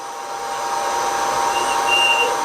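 A machine tool takes a very light cut of about 0.2 mm on the steam ports of a model steam engine, giving a steady, close whirring hum with a faint thin whine rising midway, no talk.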